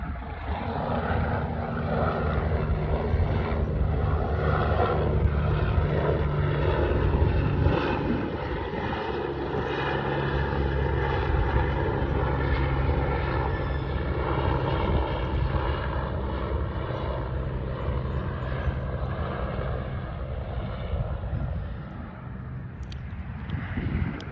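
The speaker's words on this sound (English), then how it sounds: "Military helicopter." A steady, loud engine drone of a military helicopter passing overhead, rumbling continuously for the whole stretch and fading slightly at the end.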